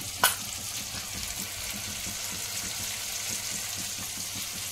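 Spiced masala with potatoes fries in a pan, a dense continuous sizzle broken by a sharp clink at the start and faint stirring, close and even throughout, no talking.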